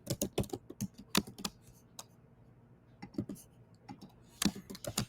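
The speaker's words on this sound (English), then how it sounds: "I'm putting it in the style of typing out the actual fears." Typing on a computer keyboard: quick bursts of close, crisp key clicks, with short pauses between clusters and a faint room hum underneath.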